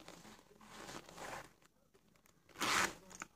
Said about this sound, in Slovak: vrecko na zips.